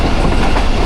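The Awam Express passenger train rolling through a railway station at speed, a loud, close, continuous roar of wheels and carriages filling the whole moment, with no voices.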